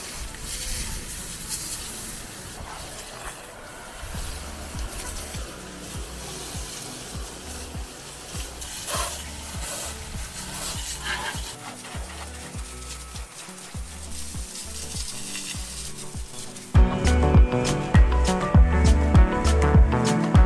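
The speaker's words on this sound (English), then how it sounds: "so let's rinse it off and see how it did" Water spray rinsing degreaser cleaner off a vehicle undercarriage, washing away grease and oil; a steady hissing wash runs throughout and grows louder and harsher near the end.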